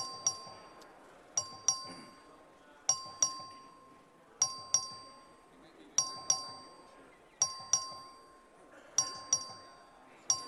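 Electronic voting bell in the Texas House of Representatives chamber rings in repeated pairs of bright chimes at steady intervals, with faint room murmur beneath.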